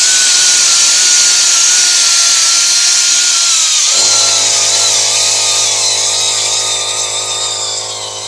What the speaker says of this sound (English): we're going to use an angle grinder with a cleaning wheel, and we're just going to clean up the mounting surfaces